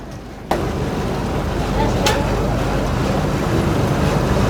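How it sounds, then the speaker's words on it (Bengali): A passenger-packed launch speeds past on a Sundarbans river, its engine and rushing water making a loud, steady broadband roar that starts abruptly and holds throughout. "আর একটা লঞ্চ দ্রুত গতিতে আমাদের দিকে এগিয়ে আসছে, আমাদেরকে ওভারটেক করছে।"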